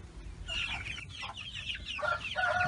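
Chickens on a small farm cluck softly in short, scattered calls against a low rumbling background, close but fairly quiet.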